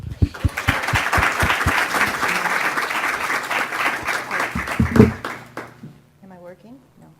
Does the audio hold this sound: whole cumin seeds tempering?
no